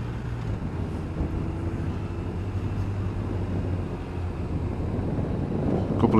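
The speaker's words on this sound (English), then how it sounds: "The wind's starting to pick up now." Strong wind roars steadily across a microphone on the San Bernardino mountain pass, a loud continuous buffeting rush that swells slightly toward the end.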